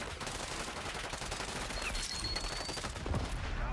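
Rapid bursts of gunfire in a Black Ops 6 Warzone match, a dense, continuous crackle of shots with no clear gaps, loud and close amid game noise.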